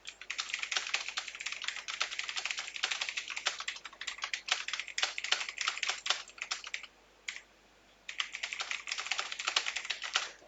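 Rapid, steady keystrokes on a computer keyboard as an email subject line is typed, close and clear with one brief pause partway through and no talking.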